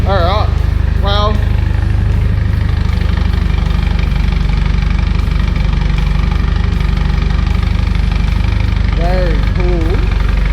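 Nissan S14 drift car engine idling with a slight tick, a loud close steady rumble with a fast ticking texture, while people talk over it at the start and end.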